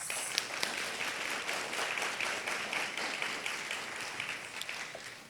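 Sustained applause from an audience at a university school of education pinning ceremony, many people clapping in an even, continuous roar with a few sharper claps standing out.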